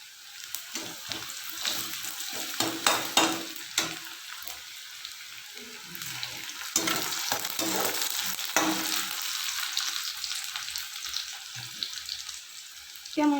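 Onions sizzle and crackle steadily in a hot pan, with intermittent scraping and stirring strokes and a few clatters, close and fairly loud throughout with no talking.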